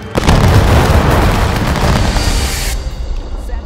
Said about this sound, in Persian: 750 سرباز شلیک کردند.